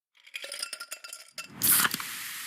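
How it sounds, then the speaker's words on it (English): Pepsi Zero Sugar cola in a TV ad: a soft clinking and rattling sequence, then a bright loud fizzy hiss like a can or bottle opening and pouring, fading into steady carbonated sizzle. "You hear that? That's the sound of Pepsi Zero Sugar."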